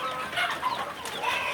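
A free-range village hen clucks close by in short repeated calls over a steady farmyard background.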